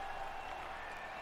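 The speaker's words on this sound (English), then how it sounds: "The crowd goes wild." A steady, dense roar of crowd noise, like cheering and applause, fills an arena in an ice hockey video game, holding at an even level throughout the short stretch.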